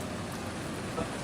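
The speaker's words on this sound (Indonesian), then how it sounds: "Hujan ya mas." Steady rain falls as a dense, even hiss of drops on surfaces, continuous and fairly close, with no voices.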